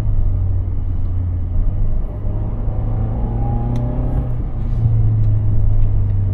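A 2020 Toyota Land Cruiser Prado cruises very slowly in second gear. A steady, low engine drone and road rumble are heard from inside the cabin throughout, with no talking.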